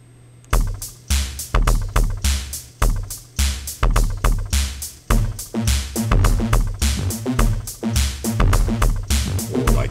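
A Korg DS-10 drum machine plays a fast, busy synthesized pattern of punchy kicks and crisp clicks, loud and rhythmic for several seconds, with no speech.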